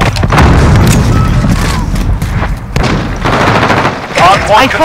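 Dense bursts of gunfire from Call of Duty: Modern Warfare (2019) rattle through a close multiplayer firefight, loud booming shots layered with rapid automatic fire and voices talking over the action.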